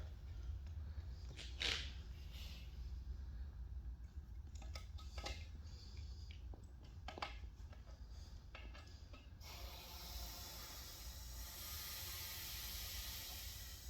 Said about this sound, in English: we're going to put just a little bit of air in it with no valve core